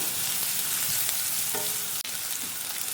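Sliced onions fry in a pan with a dense, steady hiss of sizzling oil and occasional stirring scrapes, close and continuous with no voices.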